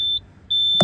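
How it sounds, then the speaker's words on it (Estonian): A Socage Forste DA 324 truck-mounted aerial lift sounds its warning signal: a sustained high electronic beep, broken by one short gap, then resuming, close and clear, ending with a sharp thump. "Siin on signaal."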